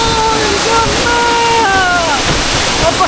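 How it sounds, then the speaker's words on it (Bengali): A waterfall in Sajek Valley roars close up, a loud, continuous rushing wash of water that fills the whole clip without pause. "কত সুন্দর ঝর্ণা দেখছেন"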